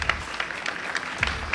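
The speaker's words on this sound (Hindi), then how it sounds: "उनके लिए तालियां बजाइए" Brief scattered audience applause at a seminar, a few loose claps close together over a short moment, fairly faint.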